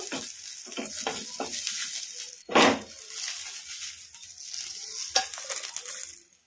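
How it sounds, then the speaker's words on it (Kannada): Green chillies fry in a kadai, giving a moderate sizzling hiss broken by stirring scrapes and two sharper bursts of crackle. "ಹಸಿಮೆಣಸಿನ್ಕಾಯಿ ಚೆನ್ನಾಗಿ ಫ್ರೈ ಆಗಿದಾವಲ್ಲ"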